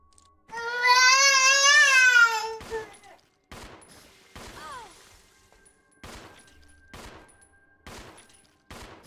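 Gunfire in the survival horror game Resident Evil 0 comes as a string of about six sharp, evenly spaced shots after a loud wailing, siren-like tone, with short pauses between bursts.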